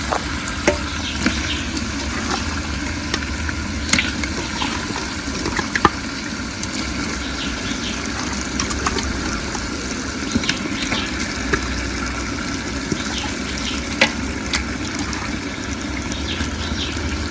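Steady sizzling and frying of chicken with masala in a pot for biryani, with occasional scraping and stirring clicks, continuous and close, with no voices.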